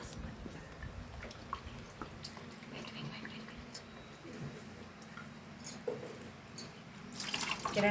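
Water is poured and runs into a vessel in a home kitchen during cooking, a close splashing trickle with clinks and drips, louder gushes near the end, and a faint voice in the background.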